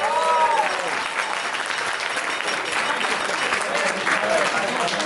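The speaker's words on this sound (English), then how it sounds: "Let's give the groom a big round of applause." Guests at a wedding reception applaud the groom with steady, dense clapping that fills the room for about five seconds, with faint voices and cheers mixed in.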